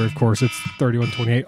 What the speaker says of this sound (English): That's my alarm. That was my Brad alarm.